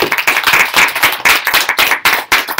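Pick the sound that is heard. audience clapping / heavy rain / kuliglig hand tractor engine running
audience clapping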